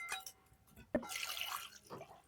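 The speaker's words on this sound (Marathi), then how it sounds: "ही मच्छी दोन तीन पाण्यानं धुवून घ्यायची आहे" River fish pieces being rinsed in water: a few soft drips and splashes, then a brighter burst of sloshing water around the middle, fading to lighter trickles, close and fairly quiet.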